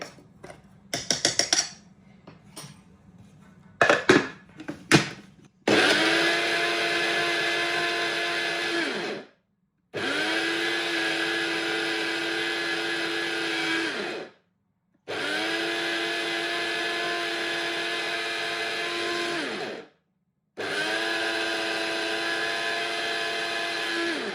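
An electric grinder blends spices into a fine homemade magic masala powder. Some clattering handling comes first, then four long, loud whirring runs with short silent pauses between them, close up and without talk.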